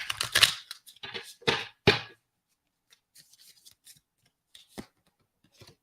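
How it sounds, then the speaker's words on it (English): Tarot cards are handled in quick bursts, a few crisp riffling shuffles up front, then sparse faint slides and taps as cards are drawn from the deck, close and quiet, with no talking. "Let's pull some tarot cards for you guys."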